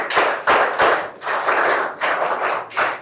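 Children clap together to congratulate a student at a school ranking announcement, a close, loud burst of rhythmic handclaps in short surges with brief gaps, with no talking.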